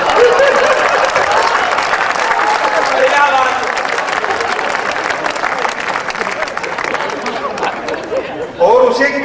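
An audience at a Hindi poetry recital (kavi sammelan) in Udaipur breaks into sustained applause, dense and loud throughout, with crowd murmur mixed in and the clapping thinning near the end.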